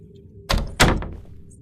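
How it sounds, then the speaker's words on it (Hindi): Two heavy thunks as a door is shut in a video game, a loud close bang followed by a second, louder knock that decays quickly, with no speech. "दरवाजा बंद कर, बंद कर।"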